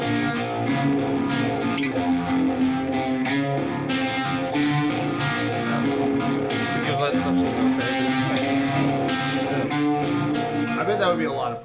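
An electric guitar plays through a Univibe-style modulation pedal with a churning, warbling tone, a continuous chordal and melodic passage running loud and steady throughout.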